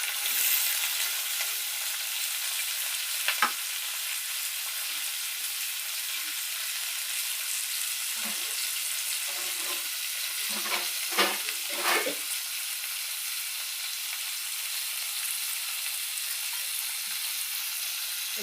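Onion, curry leaves and green chillies sizzle steadily in hot oil in a pan, with a continuous frying hiss and a few short scraping stirs clustered partway through.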